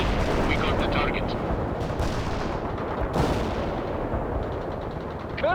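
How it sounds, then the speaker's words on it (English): Gunfire in the video game World in Conflict: dense, continuous bursts of rifle and heavy weapon fire with booming blasts, loud and close, rolling on without pause, with shouted voices mixed into the battle. "We're under fire!"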